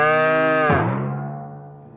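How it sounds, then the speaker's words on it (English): A single cow moos loudly and close, a long sustained call that dips in pitch partway and then fades out. "Cow."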